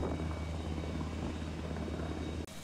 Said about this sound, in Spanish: el aterrizaje y despegue de helicópteros era incesante y caótico